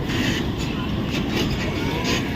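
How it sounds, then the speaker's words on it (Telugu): A bus pulls into a bus stand with a loud, close, continuous engine rumble and road noise that swells slightly. Faint voices can be heard underneath. "బస్సు వచ్చింది రా"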